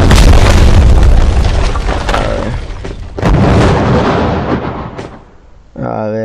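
Bombs exploding in a PUBG Mobile match, heavy booming blasts rolling one after another in a loud, dense barrage that fades toward the end before a short burst of game sound.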